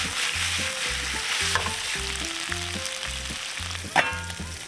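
Meat sizzles and crackles steadily in a hot oiled pan, with a brief louder spatter near the end.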